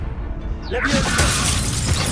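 Leviosa levitation spell cast in Hogwarts Legacy: a sweeping magical swish rising in pitch, then a glassy shattering shimmer and dense crackling that sustains loudly, with a voice heard over it.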